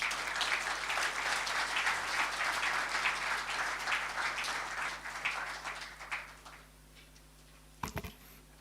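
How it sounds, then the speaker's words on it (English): Sustained audience applause after a speech at a high-level consultation meeting, a dense steady roar of many hands that fades out over several seconds, followed by a couple of brief knocks near the end. "Let's give him another round of applause."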